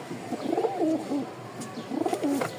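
Giribaz pigeons coo nearby in soft, throaty rolling calls, two bursts of cooing a moment apart.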